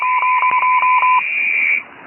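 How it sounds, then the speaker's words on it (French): Deliberate jamming tones on an amateur radio frequency around 3762 kHz, a loud sustained beep with a rapid series of pulsing tone bursts over it, fading out near the end. "Ils viennent brouiller KTMSY"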